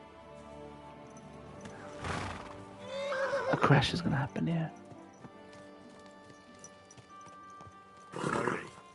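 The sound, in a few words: horse neighing and hooves clip-clopping in Kingdom Come: Deliverance 2 video game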